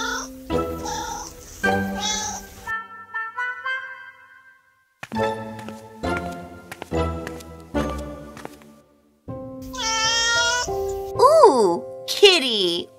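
Light, tinkling music plays, and near the end a cat meows several times with rising and falling cries.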